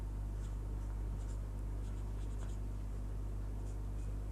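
Chalk or marker writing numbers on a classroom board during a fifth-grade maths lesson, with soft scratchy strokes over a steady low electrical hum and no talking.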